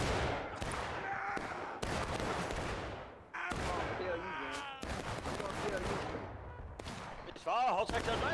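Battlefield gunfire in War of Rights, the Civil War multiplayer game, with repeated bursts and sharp volleys of shots and artillery-like booms across the scene, mixed with shouting voices and chaotic combat noise throughout.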